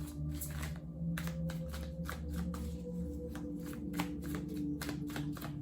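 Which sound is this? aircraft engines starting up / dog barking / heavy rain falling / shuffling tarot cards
shuffling tarot cards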